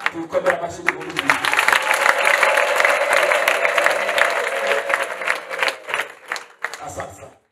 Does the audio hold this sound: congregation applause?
yes